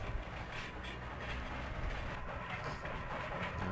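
A train ride in the video game Chulip: continuous rumbling rail noise with faint clickety-clack, steady and fairly loud throughout, no voices.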